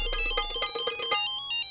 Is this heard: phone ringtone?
yes